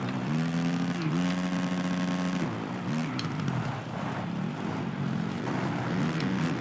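Kawasaki motocross bike engine in the Monster Energy Supercross 2 video game, a loud, continuous high-revving whine that rises and shifts pitch, with other race engines droning behind it.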